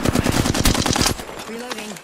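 A video-game automatic weapon fires a loud, dense burst of rapid shots for about a second, followed by a short synthetic voice line.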